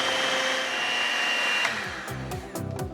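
An electric mixer beats cake batter with a cup of vegetable oil, giving a steady loud motor whine that shifts in pitch partway through and turns more uneven toward the end, with no voices.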